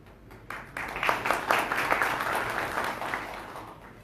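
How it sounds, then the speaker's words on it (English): Audience applause fills a hall at a professional development programme for chartered accountants: dense, steady clapping from a crowd that swells quickly and holds at a fairly loud level before slowly tapering. "applause for you people as well"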